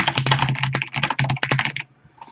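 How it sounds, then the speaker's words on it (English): Rapid clattering of computer keyboard keys being pressed, a quick run of close, crisp taps over about two seconds before stopping. "I'm going to select everything by pressing Control A on the keyboard"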